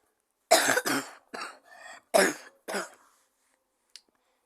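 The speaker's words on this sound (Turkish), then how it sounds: "Sen öksürüyorsun kanka." Several harsh coughs in quick succession, close and loud, followed by a faint short cough after a pause.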